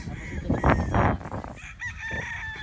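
A rooster crows loudly nearby, followed by quieter clucking and faint background noise.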